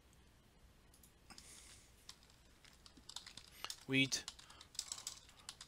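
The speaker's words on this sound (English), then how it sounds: "And then we can type in here" Fast typing on a computer keyboard while entering crop names as map labels, a rapid run of close, crisp key clicks with one louder burst of strokes, under a single brief spoken word.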